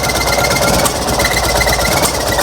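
A Fiat 126p engine with very low compression runs on 92% denatured alcohol instead of petrol, a loud, close, steady mechanical chatter with a fast, even rhythm and no voices.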